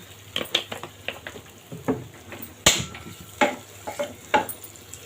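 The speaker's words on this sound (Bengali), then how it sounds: "পেঁয়াজটা আমি ব্রাউন কালার করে ভেজে নিব। আর একটু তেল দিব।" Chopped onions fry in oil in a pan for a Bengali fish curry, a soft sizzle broken by repeated scraping and stirring knocks of a spoon against the pan, close by, with no talking.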